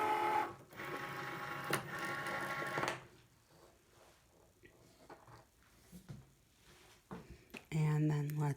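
A Cricut Maker cutting machine pulls in its mat with a whirring, buzzy motor run for about three seconds, then softer clicks and shuffles, and a final short mechanical tone; a voice talks over parts.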